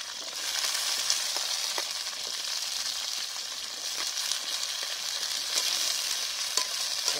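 Potatoes and carrots frying in a wok-style pan over a wood fire, a steady, close crackling sizzle with occasional sharper pops and stirring, heard alone without talk.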